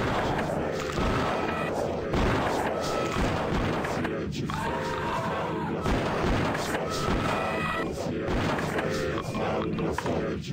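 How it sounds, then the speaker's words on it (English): Napalm launcher firing in the shooter game Blood, with loud, continuous booming blasts and crashing explosions filling the scene while someone speaks over the din. "I shouldn't waste napalm launcher rounds on them"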